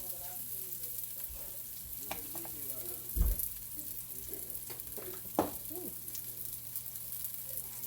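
Onions sizzle steadily in a pan over turned-down heat during a family Sunday dinner, a soft continuous frying hiss with occasional louder clinks and stirring knocks near the mic.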